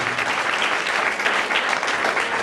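Dense, loud applause from a seminar audience, a continuous wash of clapping that holds evenly from start to finish with no voices.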